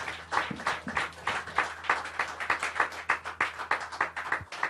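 A church congregation claps together in a steady, rhythmic beat, the loud, regular claps filling the space throughout, with no talking.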